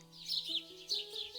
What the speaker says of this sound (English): Hello, little birds. Come for your morning berries again?